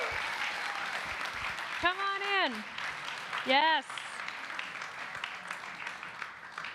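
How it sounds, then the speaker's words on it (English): Conference audience applause at a food-industry gathering, a steady patter of clapping under loud whoops and cheers, with someone speaking briefly over it. "Let's do another big round of applause just to get everyone in here."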